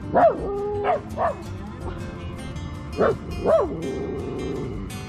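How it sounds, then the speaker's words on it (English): Several sharp dog barks and yips come in quick bursts, close by, with short whimpering tones between them. "Weeks, what are you barking at"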